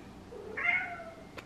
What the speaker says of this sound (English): Have you ever seen a cat look more like a diva than this?